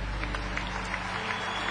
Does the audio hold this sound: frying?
no